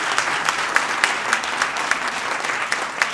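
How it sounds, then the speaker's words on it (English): A town hall crowd applauds, dense and even clapping throughout, with faint regular accents in it and no talk over it. "Let's give him a round of applause"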